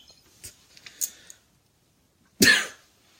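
A single sharp cough bursts out near and fairly loud after a few faint ticks and small clicks, followed by a brief quiet tail.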